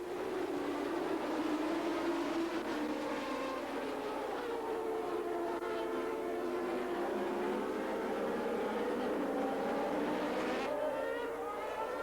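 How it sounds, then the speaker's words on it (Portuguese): Formula 1 cars roaring away at a 1989 Grand Prix start, several engines whining and sweeping in pitch as they accelerate, heard at a distance with a steady, moderately faint crowd-and-track wash beneath. "Veja só a largada espetacular que ele faz, saindo da segunda fila e ultrapassando as duas McLaren."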